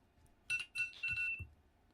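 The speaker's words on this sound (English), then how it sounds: "As my alarm goes off for no reason." A phone alarm goes off indoors in short repeated electronic ringtone bursts, a few quick chimes then a longer sustained tone, clear and fairly close with no talking over it.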